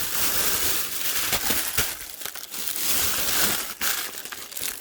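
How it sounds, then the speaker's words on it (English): A bubble-style padded mailer from a Lego haul being opened, giving continuous loud crinkling, crumpling and tearing of plastic packaging close up, with no talking. "Some alternative bubble type mailing."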